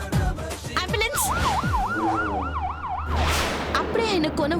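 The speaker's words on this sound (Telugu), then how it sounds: "అంబులెన్స్." An ambulance siren wails with a steady rising and falling cycle, loud and close, over rumbling traffic and engine noise.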